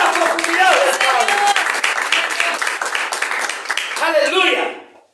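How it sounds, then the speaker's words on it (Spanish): A church congregation breaks into loud, dense applause that is close and continuous for several seconds and then fades out quickly. Cheering voices mix into the clapping. "¡Aplaudirle!"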